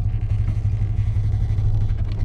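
A Citroën 2CV's small engine chugs steadily with a low, close rumble as the car pulls away, continuous and without voices.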